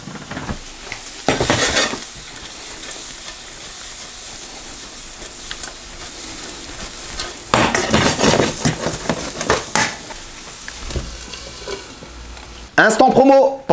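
Chicken seasoned with red chicken spice sizzles steadily in a pan for a healthy wrap, with bursts of louder stirring scrapes and a final clatter of utensils against the pan.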